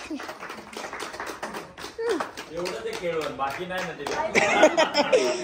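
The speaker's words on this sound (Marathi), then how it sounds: "चला टाळ्या वाजवा." People at a family gathering clap their hands in quick, uneven bursts amid chatter and chuckles, the claps growing louder and denser near the end.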